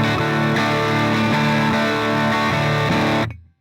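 Distorted electric guitar chords played through an Axe-FX III amp model set to a '59 bass amp with 6L6 GCGE power tubes, loud and dense with steady strums until an abrupt stop near the end.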